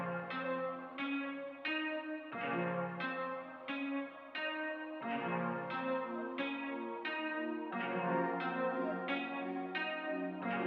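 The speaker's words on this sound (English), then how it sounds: "I added in a pad afterwards just to fill out the sample a bit more and give it like that really dark cinematic" A dark, cinematic synth pad layered into an FL Studio beat in the style of Metro Boomin plays sustained chords that shift every couple of seconds in a slow, repeating progression, fairly quiet and without voices.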